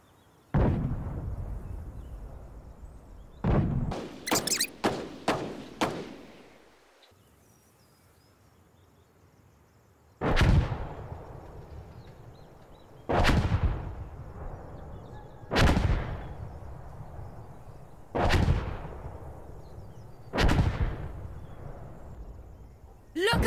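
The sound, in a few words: explosive artillery strike in the video game Insurgency: Sandstorm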